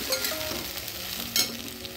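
Ginger garlic paste mixture frying in oil sizzles close up, with two brief louder bursts as it is stirred around the pan.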